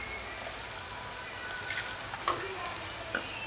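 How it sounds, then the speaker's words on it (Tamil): Onions and green chillies sizzle steadily in a pan during a fish kuzhambu preparation, a faint continuous frying hiss with a few soft stirring clinks. "நல்லா வதங்கட்டும் வெங்காயம் நல்லா வதங்கிடுச்சு இப்போ நம்ம பச்சை மிளகா சேர்த்துக்கலாம்"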